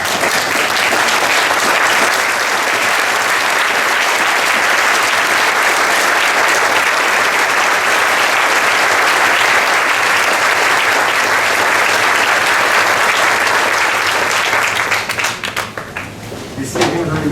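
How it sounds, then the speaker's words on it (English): A standing audience gives a loud, sustained round of applause inside a new building, dense and steady for about fifteen seconds before it thins out and tapers at the end. "if all of you please will please stand, and with a very loud round of applause"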